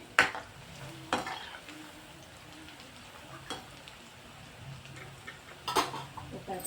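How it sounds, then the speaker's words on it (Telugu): Crispy potato balls fry in oil with a faint, steady sizzle, broken by a few sharp clinks of a utensil against the pan. "గోల్డెన్ కలర్ వచ్చేంత వరకు వేయించుకోవాలి వీటిల్ని"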